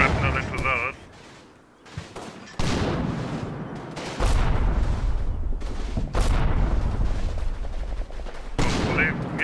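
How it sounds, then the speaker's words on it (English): Artillery strike landing on mortar positions in the war game Combat Mission: a run of heavy booms and rattling gunfire bursts, loud and close, with someone talking over them. "I hope I can get the spot with this artillery strike, which is now coming down."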